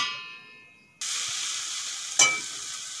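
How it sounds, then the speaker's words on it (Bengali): Radish greens fry Bengali style in a pan. After a second of fading quiet, a loud, steady sizzle bursts in, with a sharp flare and a clink partway through. "চাপা দিয়ে দিয়ে খুব সুন্দর করে শাকগুলো ভেজে নিয়েছি"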